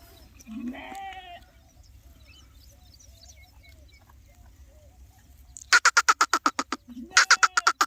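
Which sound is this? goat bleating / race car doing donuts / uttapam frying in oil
goat bleating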